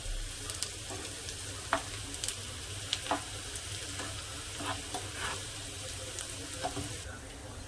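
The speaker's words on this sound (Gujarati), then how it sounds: "એને ધીમા તાપે થવા દેવાનું છે।" Onion frying gently on low heat for street-style Maggi noodles: a steady soft sizzle runs throughout, broken by occasional light clicks and scrapes from stirring.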